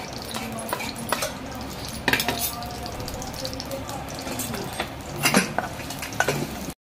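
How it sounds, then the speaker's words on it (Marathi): Garlic fries in a spoonful of hot oil in a wok, giving a soft sizzle, while a utensil stirs and scrapes, with a few sharper metallic clinks standing out nearby. "आता आपण याच्यामध्ये टाकूया लसूण।"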